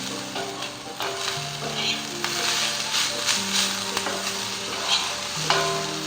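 Ingredients for a ridge gourd masala dry-roasting in a pan, with light crackle and scraping stirs over steady sizzle while background music plays.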